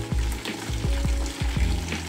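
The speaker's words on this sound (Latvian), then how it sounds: "Lejam iekšā karsto ūdenī." Hot water pours into a container holding frozen fish, a steady close splashing rush that lasts about two seconds.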